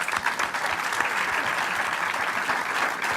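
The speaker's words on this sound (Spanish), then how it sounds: "Antes de que cierre Guillermo, quería agradecer y que le demos un aplauso a todos los trabajadores del SADOP" A room full of people applauds the union workers at a training course event, a loud, continuous burst of clapping from a sizable audience, steady for its whole length with no voices rising above it.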